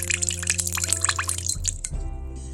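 Rice vinegar poured into a salad dressing with lime juice and fish sauce, a close run of small trickling and dripping splashes that ends in a lower gurgle, with no talking.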